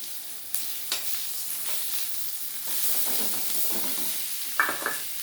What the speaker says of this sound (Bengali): এবার আমি রসুন বাটাটা দিয়ে দিচ্ছি